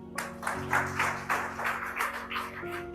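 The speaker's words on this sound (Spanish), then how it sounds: "Yo un aplauso a Cristo." A church congregation claps in a dense, even burst with some organ or keyboard tones sustained beneath, lasting a few seconds at moderate loudness.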